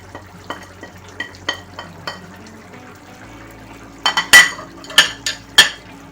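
Paneer curry with garam masala powder is stirred in a pan by a metal spoon, which makes a series of sharp, close scrapes and clinks. A few light strokes come first, then louder ones, over a faint sizzle.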